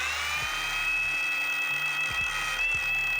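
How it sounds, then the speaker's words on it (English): A DIY Detail cordless polisher spins at low speed, giving a steady high-pitched motor whine with a low rhythmic whirring underneath, close and continuous for the whole stretch. "So I'm gonna put it on the polisher. Spin this out. So I'm gonna start with 1 right here, lower speed."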